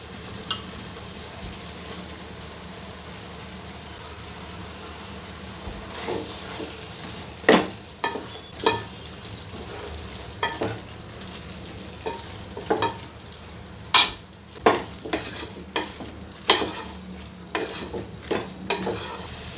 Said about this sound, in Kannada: ಇವಾಗ ನಾವು ಹಿಂಡ್ಕೊಂಡಿರೋ ಅಂಥ ಸೋಯಾ ಹಾಕ್ತಾಯಿದ್ದೀನಿ